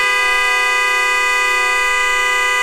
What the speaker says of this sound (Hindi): गाड़ी की हॉर्न बज उठी